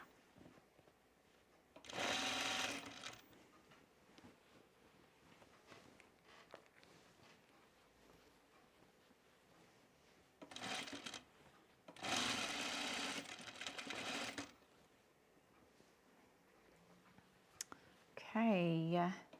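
Home sewing machine stitching a Style Arc Teddy Top garment, running in two bursts of steady whirring a few seconds each, close by, with quiet pauses and a brief voice near the end.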